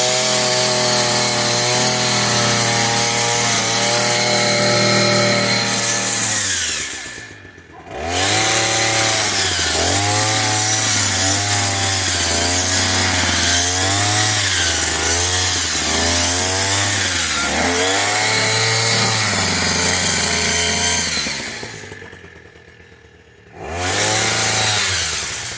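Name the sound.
PROYAMA 42.7cc petrol multi-tool hedge trimmer running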